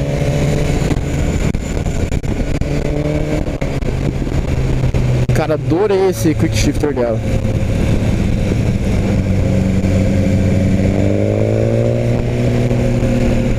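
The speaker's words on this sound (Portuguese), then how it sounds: "Olha como a moto entrega um torque baixo aqui, ó." A BMW S1000 R sport motorcycle engine drones steadily and rises in pitch as it revs through the gears, with someone talking over it and wind noise.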